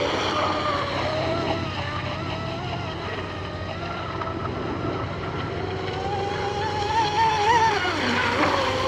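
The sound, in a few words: carbon fiber P class race boat running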